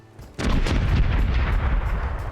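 Ship cannons firing a broadside in the pirate game Corsairs Legacy, a sudden heavy boom followed by a rolling roar of overlapping blasts that slowly fades, loud and alone.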